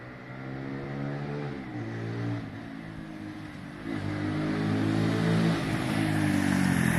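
A Benelli Keeway 125cc motorcycle engine, freshly running after a carburettor clean, idles steadily up close, its tone rising slightly as the revs climb over several seconds.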